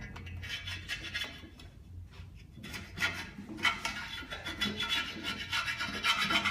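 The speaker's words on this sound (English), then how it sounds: "So you're rubbing it with safety clean as well a bit, yeah?" A transmission bell housing from a Hydramatic rebuild is rubbed clean with safety cleaner: a steady, close scrubbing rasp that starts soft and grows louder and denser in the second half.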